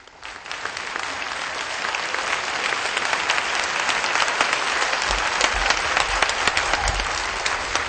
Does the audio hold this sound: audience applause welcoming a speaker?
yes